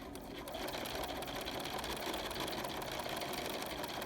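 Sewing machine fitted with a walking foot stitches along the edge of a Minky fabric blanket, a steady, continuous rapid whir at moderate volume with no pauses.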